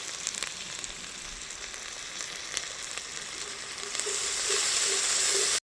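Turmeric with a ginger and cumin paste fries in oil in a pan, a dense steady sizzle with faint scrapes that swells louder and more hissing toward the end.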